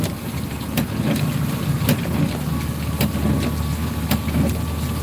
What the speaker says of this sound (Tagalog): Joyride rider tayo kaso hindi tayo makabiyahe kasi lakas ng ulan.